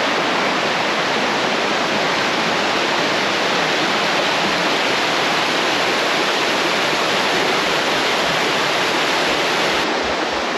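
The Moravica river on Ozren mountain in Serbia, running high after flooding, gives a broad, unbroken rushing roar that stays loud and steady throughout, with no speech over it.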